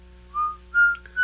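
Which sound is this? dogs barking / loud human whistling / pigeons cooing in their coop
loud human whistling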